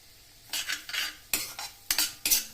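Rava semolina being roasted in ghee for Chettinad ukkarai sweet, stirred with a spoon in a pan: a series of short, close scraping strokes in irregular bursts over a quiet background, with no voices.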